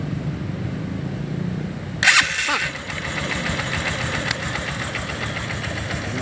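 Engine started with a push-button starter: a steady running rumble is interrupted by a sharp crank and catch, then the engine settles back into a continuous close idle.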